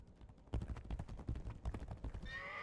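A horse in the video game Legacy of Kain Ascendance whinnies loudly at the start. Quick, rhythmic hoofbeats of a gallop follow, close and prominent, ending with a higher whinny.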